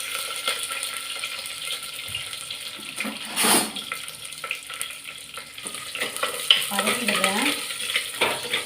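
Sambar onions and curry leaves sautéing in hot oil with a steady low sizzle, broken by occasional stirring scrapes and a brief louder splash of frying midway.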